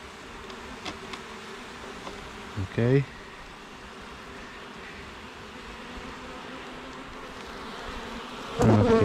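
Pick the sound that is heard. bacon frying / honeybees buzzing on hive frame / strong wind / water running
honeybees buzzing on hive frame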